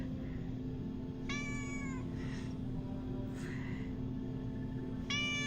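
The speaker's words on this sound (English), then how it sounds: "Hi, cat." A cat meows twice, each a short rising-falling cry, fairly close over a steady low electrical hum indoors, with no one talking.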